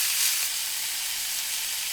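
Seasoned beef sizzles in a lightly oiled frying pan, a steady, close, even hiss with no talking.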